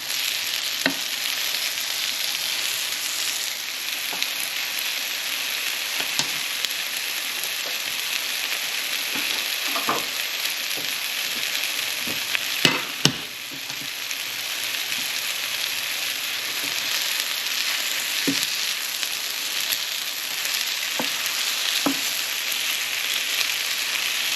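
Meatballs browning in a hot pan for a meatball sandwich, a dense, steady close sizzle with a few sharp clicks and pops from turning, no voices.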